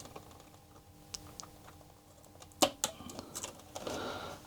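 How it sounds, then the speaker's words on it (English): A keyboard flat flex cable is eased out of its connector inside a Sinclair ZX Spectrum+ during a repair, giving a few small plastic clicks and light scraping against quiet room noise. "So gently gonna pull this keyboard flat flex cable out."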